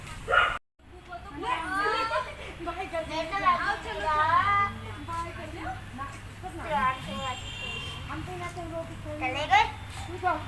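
A small pet dog yaps and barks in short bursts through a household scene, mixed in with children talking and a voice nearby.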